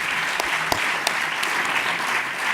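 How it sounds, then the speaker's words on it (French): An audience applauds at the close of an evening event, dense steady clapping throughout with a few sharper individual claps standing out. "On peut vous applaudir parce que ça sera le dernier mot de cette soirée"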